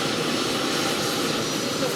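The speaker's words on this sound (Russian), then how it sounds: "и вертушка уходит, потому что там погода ухудшается" A helicopter leaving a mountain camp at 1500 m in the Kolyma region gives a steady, broadband rotor and engine roar that fills the air evenly without pause.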